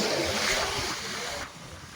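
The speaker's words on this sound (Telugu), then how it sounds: "అలలు మాత్రం బాగా వస్తున్నాయి." Ocean waves wash onto a beach in a continuous rushing surf noise, fairly close, fading somewhat near the end.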